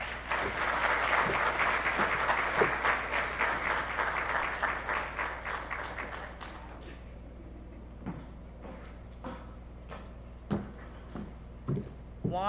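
Audience applause at a public sector graduate scholarship awards ceremony, loud and sustained for about six seconds, then fading to scattered, isolated claps that trail off over a quiet room.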